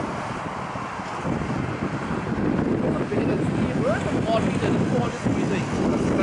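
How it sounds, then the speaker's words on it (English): A motorboat engine drones steadily across open water, with wind buffeting the microphone throughout. "Speed boat. it is."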